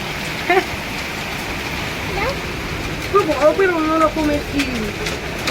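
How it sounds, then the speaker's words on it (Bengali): Hail and rain pour down in a heavy storm, a steady close hiss of drops striking surfaces throughout, with a voice speaking over it midway. "বৃষ্টি হচ্ছে দেখো এরকম বৃষ্টি হয়ে শিল করছে"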